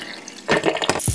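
Boiled pork for Bajan souse tipped into a strainer, water pouring and splashing loudly in a short burst after a quiet start, with a final drip.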